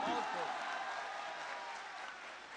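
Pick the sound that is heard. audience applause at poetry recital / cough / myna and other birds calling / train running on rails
audience applause at poetry recital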